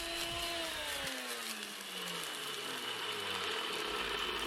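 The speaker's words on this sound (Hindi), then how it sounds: "इन सब खड़े मसालों को हमने ग्राइंडर जार में डालकर इनका अच्छा सा एक पाउडर बना लेना है" An electric grinder jar powders whole spices for a mutton paya recipe, giving a loud, steady motor whir whose pitch slides downward as the blades slow, with no talk.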